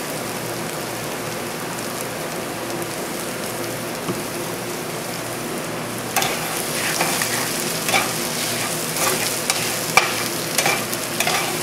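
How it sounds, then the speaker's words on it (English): Hash brown potatoes sizzle steadily in an oiled pan while a utensil scrapes the bottom in repeated short strokes, the scraping growing busier and more distinct partway through. "Now keep on scraping the bottom of the pan."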